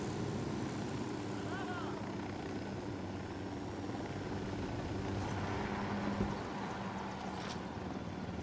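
A helicopter in the video game Ghost Recon Wildlands drones with a steady rotor and engine roar throughout, loud and continuous beneath occasional game sounds.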